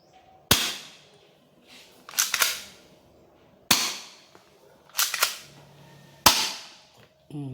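An HK USP full-metal manual gel blaster pistol fires five sharp snapping shots spaced a second or more apart. Each crack is close and crisp, with softer clicks of handling the slide in between.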